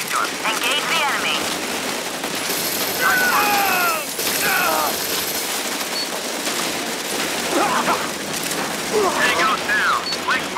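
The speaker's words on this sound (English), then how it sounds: "Use the machine gun." Machine gun fire in a military video game, steady rapid bursts that are loud and close, mixed with chirping tones and a person talking.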